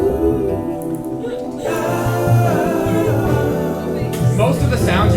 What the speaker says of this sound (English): Most of the sounds you're hearing right now are all his bass.